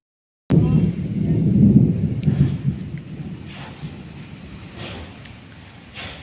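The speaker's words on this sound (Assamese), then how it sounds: "গুম গাম কৰি আছে, এটুপ দুটুপ পৰিছে" Deep thunder rumbles in as rain starts in a jungle setting, a loud rolling burst at first that eases into a steady low growl, with light patters of the first drops above it and no voices.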